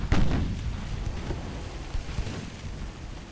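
Heavy naval guns of a warship fire high-explosive shells in the game Ultimate Admiral Dreadnoughts: a loud sharp boom opens, then a rumbling, crackling roll with a second muffled thud midway, fading gradually.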